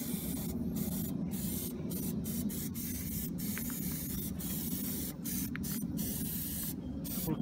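Plasti Dip sprays from an aerosol can onto car wheels in a steady, continuous hiss, close and even, with brief breaks between passes.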